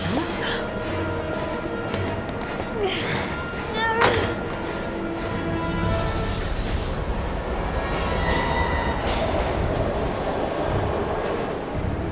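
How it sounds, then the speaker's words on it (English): A train in the video game Heavy Rain rumbles past with a continuous heavy roar, faint metallic squeals and clatter over it, steady and moderately loud throughout. "We gotta get on that train, Ethan."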